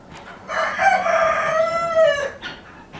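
A rooster crows loudly and close inside a farm chicken coop, one long drawn-out call with clucking fowl around it and no voices.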